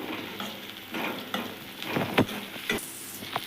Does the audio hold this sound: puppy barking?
no